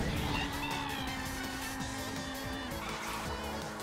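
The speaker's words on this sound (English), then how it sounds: "Yes, brake drifting." Kart brake drifting in Mario Kart 8 Deluxe, a continuous engine drone with a skidding tire squeal, accompanied by game music and sound effects throughout.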